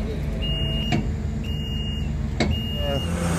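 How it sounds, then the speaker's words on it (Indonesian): A remote-controlled mobile primary waste crusher at a Jakarta rubbish processing site runs with a steady loud engine rumble, broken by two sharp clanks and brief high-pitched whines as it moves. "beginilah pergerakan mesin Asiana ini yang dikendalikan dengan menggunakan remote control"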